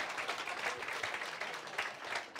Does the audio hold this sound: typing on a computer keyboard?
no